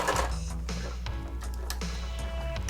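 A sewing machine stitches a vertical strap on a harness, producing a quiet, even mechanical chatter with light ticking at close range and no voices.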